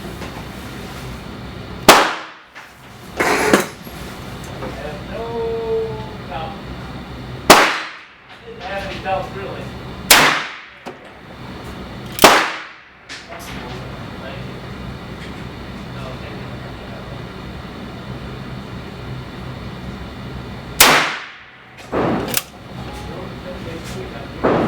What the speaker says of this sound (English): Now let's go ahead and shoot the same load powder coated bullets and see how they perform with the powder coating.